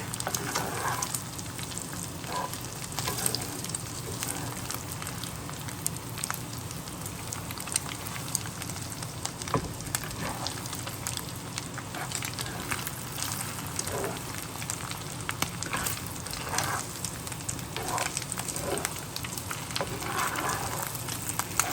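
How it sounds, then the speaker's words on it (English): Village-style scrambled eggs cook in plenty of butter, a continuous crackling sizzle like light rain that runs steady and close for the whole stretch, with no voices. "So this is like village style scrambled egg with lots of butter."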